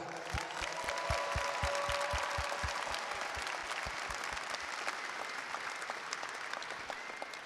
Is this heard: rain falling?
no